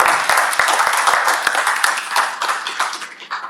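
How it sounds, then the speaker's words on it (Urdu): An audience at a literary foundation's anniversary gathering applauds to welcome Professor Khalid Mahmood to the stage, steady dense clapping from many hands, loud and close, with a few sharp individual claps standing out. "تالیوں سے استقبال کریں."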